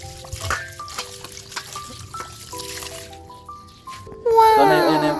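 Running tap water pours and trickles steadily as leaves are rinsed in a sink, with a brief high whistling tone near the end; children's voices can be heard faintly in the background.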